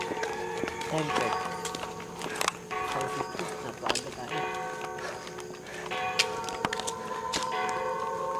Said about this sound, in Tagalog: Tumutunog yung kampana ng simbahan nila.